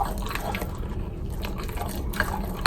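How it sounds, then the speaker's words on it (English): A spoon stirs protein powder and a little water into a thick pudding, giving soft, wet, sloshing scrapes with small clicks near the end, close and fairly quiet. "stir it around a bit"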